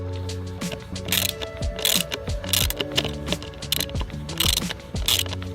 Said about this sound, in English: Tighten the bracket around the piece of wood.